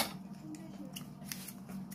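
Daiso pork-belly meat scissors snip through tough wild mushrooms, several faint crisp cuts recurring at a steady pace close by, no talking over them.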